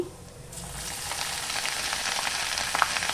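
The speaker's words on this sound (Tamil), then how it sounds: "ஸ்டவ் நிறுத்திட்டு பெருங்காயம் போட்டுக்கோங்க அவ்வளோதான் தாளிச்சது ரெடி ஆயிடுச்சு" Crushed pepper, cumin and ginger crackle and sizzle in hot oil for a tempering, starting quietly and then holding a steady, close frying hiss with small pops.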